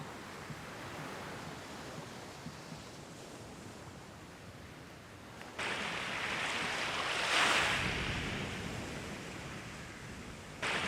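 Surf on the beach at Weligama Bay, Sri Lanka, with a steady broad wash of breaking waves that swells louder partway through, mixed with some wind noise on the microphone.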